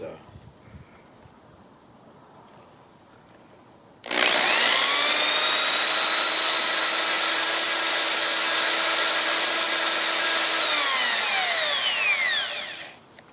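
A power drill spins up abruptly and holds a steady, loud whine for about eight seconds while boring holes through thick metal for an e-bike rack, then winds down, with quiet background before it starts.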